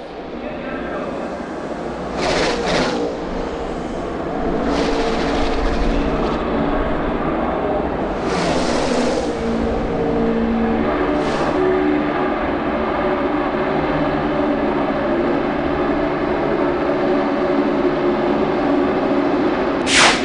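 NASCAR stock cars roar past on the 2011 Daytona 500 early laps, a sustained broadband engine drone with several louder swells as packs sweep by, under continuous commentary.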